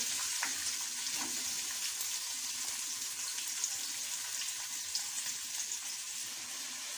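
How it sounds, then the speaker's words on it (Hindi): Steady hiss and crackle of onions frying in hot oil, continuous and close, with faint stirring clinks. "अब हम इसमें प्याज ऐड कर लेते हैं।"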